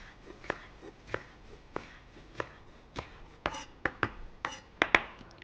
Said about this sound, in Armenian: Այսպես նորեն մանր կտրատում ենք։